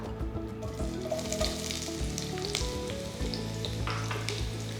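Onions frying in hot coconut oil in a pan, a close, continuous sizzle with scattered clinks and handling noises, no voices.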